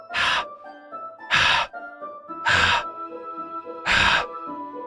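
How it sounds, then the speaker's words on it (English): Four sharp, noisy inhales through the teeth at a steady interval, close and loud, in the video game Doki Doki Literature Club, with a faint tonal background hum between them. "A sharp inhale, like someone is sucking in the air through the teeth."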